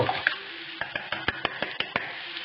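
Egg mixture seasoned with pepper and salt is stirred in a bowl, giving a rapid series of about a dozen crisp, regular clinks and scrapes of utensil against the bowl, close and fairly quiet.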